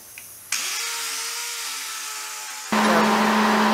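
Power sander starting up on wood with 80 grit paper, a motor whining up to a steady hum, then a sudden louder harsher grinding once the pad meets the wood, close and continuous.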